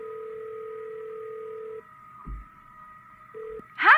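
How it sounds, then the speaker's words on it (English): A telephone in the video game Nancy Drew: Ghost of Thornton Hall gives a steady dial tone that breaks off, followed by a couple of dialing beeps and a brief ringing chirp at the end, clean and isolated. "Let's just call Savannah too while we're on the phone"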